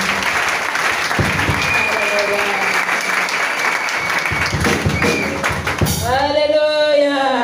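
A church congregation applauds and acclaims God in steady, dense clapping throughout, joined by voices and cheers, with a rising shout near the end.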